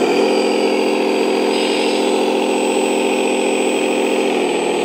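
A steady, close electric whine hums from the hydraulic pump of a 1/14 scale Double E RC Volvo 6X6 dumper truck, holding an even pitch throughout with no pauses.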